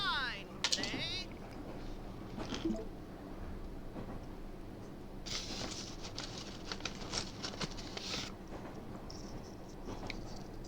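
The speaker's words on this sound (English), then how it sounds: "Raining cats and dogs out there." Heavy rain pours down outside a passenger train pulling into a station, a steady dense patter with louder rushing bursts and faint muffled voices underneath.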